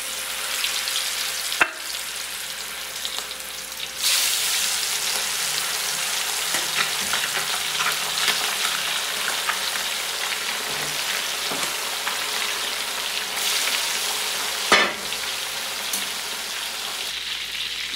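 Chicken wings fry in hot oil with a dense, continuous crackling sizzle, swelling louder as pieces go in, with a few sharp knocks from the pan or utensil.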